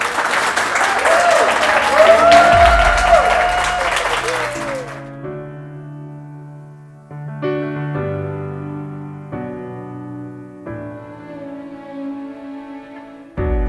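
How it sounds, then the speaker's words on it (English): Loud live studio audience applause fills the first five seconds at the close of a talk-show episode, then cuts away to quiet music-like tones. "I want everyone to give themselves another round of applause for being so incredible."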